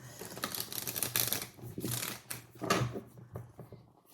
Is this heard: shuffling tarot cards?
yes